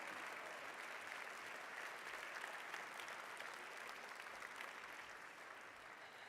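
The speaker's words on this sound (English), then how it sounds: "Can we please get one more round of applause for the incredible work we are all here to support" Audience applause at a Chicago justice gala and awards evening, a steady, even wash of many hands clapping together, faint and distant, unbroken from start to finish.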